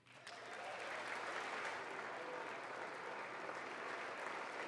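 Steady, mildly enthusiastic applause from a large chamber audience at a State of the Union address, rising quickly and holding an even, dense patter of many hands without cheering.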